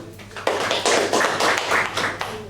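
Applause from a Toastmasters-style meeting audience, a burst of many hands clapping that starts abruptly and holds steady at close range, with no talking over it.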